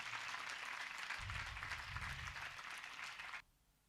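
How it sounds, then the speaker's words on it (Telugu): A congregation claps loudly in unison during a Lenten Holy Mass: a dense, sustained wash of hand claps that cuts off abruptly near the end, leaving quiet room tone. "గట్టి చప్పట్లు కొడతామా"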